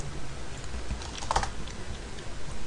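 Typing on a computer keyboard during After Effects work, a short run of quiet, close key clicks over a low background hum.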